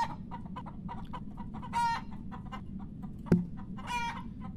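Hens cluck busily in a 3D farm simulation while a rooster crows in two short bursts, with a sharp click between them over a constant low background hum.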